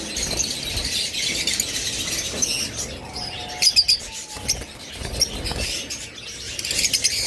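Pet birds in a shop, including lovebirds, forpus, budgerigars, cockatiels and finches, chirp and tweet in a busy overlapping chorus, with bursts of louder nearby calls and some soft rustling.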